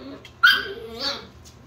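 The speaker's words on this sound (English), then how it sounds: "You're usually the queen of the barking." A seven-week-old puppy lets out a sharp bark followed by a whimpering yip indoors, brief and close, over a quiet background.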